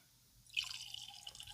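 West Cork Irish whiskey pours into a glass from a bottle with a metal twist cap, a soft liquid splash that starts about halfway in and trickles on steadily, quiet and close.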